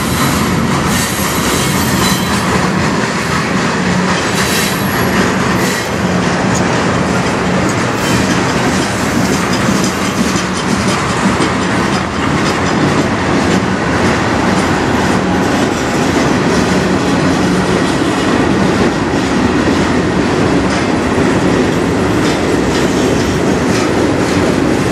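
CN freight train M397 passes close by on the Strathroy Subdivision in Sarnia, Ontario, a loud, unbroken roar of rolling cars with wheel clatter and occasional squeal, no voices.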